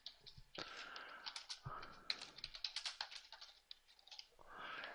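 Quiet tapping on a computer keyboard comes in uneven clusters of soft, close keystrokes with short gaps, and no one speaks.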